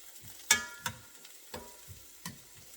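Green onions sautéing in a pan for a ground beef and spinach dish, a faint steady sizzle broken by a few sharp utensil scrapes and taps spaced about a second apart, close by with no talking.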